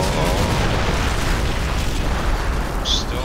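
Rocket explosion in the video game MOWA 2, a loud, dense rumbling blast that fills the whole moment and rolls on without a break, with a short sharp game sound near the end.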